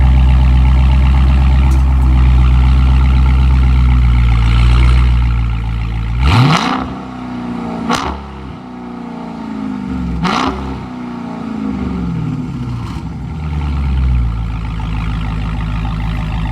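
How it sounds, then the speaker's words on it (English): Dodge Charger Scat Pack exhaust rumbling at idle, then sharp revs blip up loudly several times with deep burbling in between, close and loud. "we're going to show you guys the exhaust and how it sounds"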